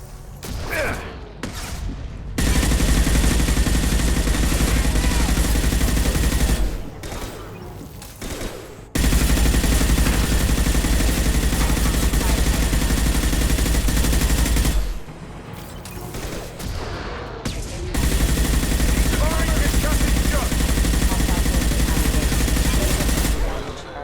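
Sustained automatic gunfire in a Mass Effect 2 firefight: long, loud, dense bursts of rapid shots lasting several seconds each, broken by brief pauses with a voice and scattered shots.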